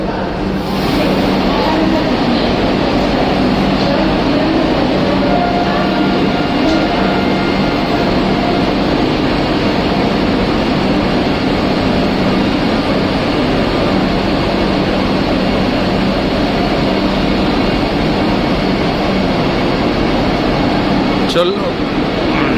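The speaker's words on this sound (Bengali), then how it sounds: "চলল 20891 বন্দে ভারত।" A steady, loud rumble and whirr of a Vande Bharat express train, number 20891, pulling away from a crowded platform, a continuous broadband roar throughout with voices in the background.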